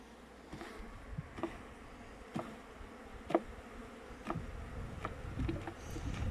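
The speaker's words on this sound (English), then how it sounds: "shake those bees off and then we can spray them afterwards" Bees buzz steadily around a hive, a soft droning hum broken by a few quiet clicks and knocks.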